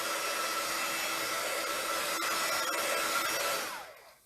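A hair dryer blows a steady, loud whoosh close by as it dries paint on a gel plate print, running evenly before being switched off and fading away at the end.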